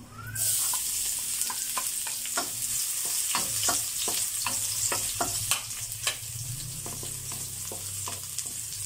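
Garlic frying in a pan for a pork liver dish, a steady sizzle with repeated sharp scrapes and clicks of a utensil stirring, close and fairly loud, with no talking.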